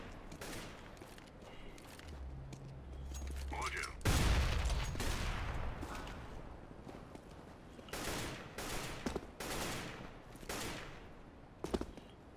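Gunfire in the game CS:GO, a burst of rapid shots breaking in about a third of the way through, then more scattered volleys and single cracks of varying distance, with talk running underneath.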